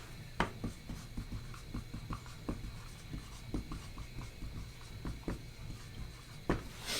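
A board is wiped clean with an eraser during a lesson: a series of short rubbing strokes and light scrapes, close and fairly quiet, over a steady low room hum, with no talking.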